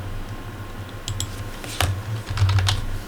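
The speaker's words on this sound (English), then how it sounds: "So we'll just type in Fast" Close, loud computer keyboard typing in a few quick clicking bursts while entering text in After Effects CS6, with no speech.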